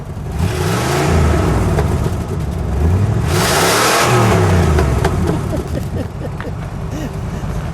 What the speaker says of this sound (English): Let me just listen to it idle. Go ahead, give a little rev.